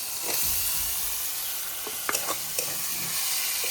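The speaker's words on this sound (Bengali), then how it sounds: "এখন আমি কেটে রাখা টমেটোগুলো দিয়ে দেবো।" Steady loud sizzling of chopped tomatoes dropped into hot frying spices in a pan for a vegetarian potato, pointed gourd and paneer curry, with a few small clinks and stirring scrapes over the constant hiss.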